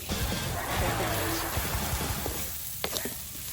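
Fermented soybeans with cicadas stir-fry in a hot pan, a steady close sizzle with scraping stir strokes and a few sharper clinks near the end, with voices present in the background.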